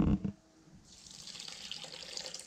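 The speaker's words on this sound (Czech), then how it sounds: "ten vývar budu cedit přes sítko" Broth poured through a sieve into a pot, a steady close trickle and splash of liquid starting after a brief clatter, running continuously to the end.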